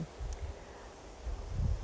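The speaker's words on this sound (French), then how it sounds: "On a un peu de vent." Wind in a vegetable garden gives a soft, steady rustle of leaves with gentle gusts swelling and fading, faint and continuous throughout.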